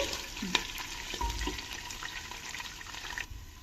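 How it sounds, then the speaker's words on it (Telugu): Green chillies and sprouts frying in a pan, a steady soft sizzle with light stirring scrapes running under the whole stretch, moderately close and fairly quiet. "ఇప్పుడు పచ్చిమిర్చి కూడా వేగాయి"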